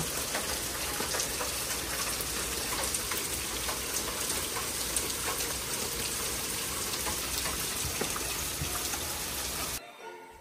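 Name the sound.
heavy rain at a lakeside campsite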